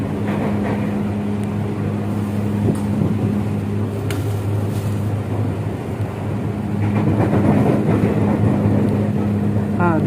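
A KRL commuter train rolls toward a track junction, with a steady low rumble and hum, occasional sharp clanks and a rise in loudness toward the end.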